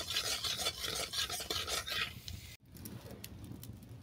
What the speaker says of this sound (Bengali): তেলের সঙ্গে লবণ হলুদটা মিশিয়ে দিচ্ছি।